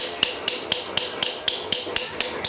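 Seal driver tool hammered to seat a cam seal on a Subaru EA82 engine, about ten sharp metallic strikes at an even, quick rhythm, close and loud with no talking.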